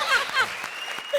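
A studio audience on a comedy show breaks into brief applause, a bright clattering wash of clapping with a few whoops rising over it.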